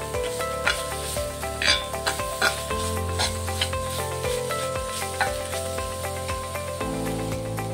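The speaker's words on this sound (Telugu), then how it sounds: "దీన్ని ఒకసారి ఫ్రై చేసుకుందాం." Half a spoon of garam masala frying in a pan with steady sizzling and scraping stirring strokes, under a backdrop of sustained music.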